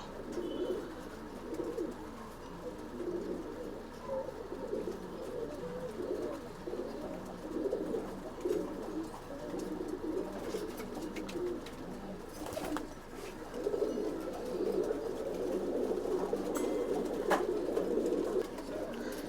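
Flock of old bloodline pigeons at a Bangalore loft cooing continuously, a dense layered murmur of many birds close by, steady throughout with a slight swell near the end.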